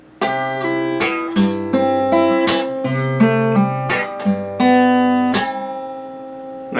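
Acoustic guitar played with a percussive slap groove: strummed chords punctuated by sharp slaps in a steady repeating rhythm, close and loud with no talking.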